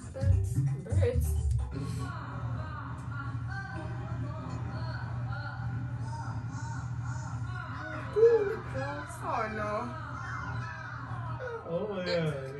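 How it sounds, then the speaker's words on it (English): Birds caw and cluck, crow-like and chicken-like calls, moderately loud and recurring throughout, mixed with people talking and background chatter. "Birds."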